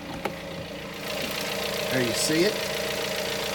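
A 2017 Jeep Compass Limited 4x4 with a 2.4-liter inline four-cylinder engine idles with the hood open, giving a steady, smooth, moderately loud hum while someone talks briefly over it.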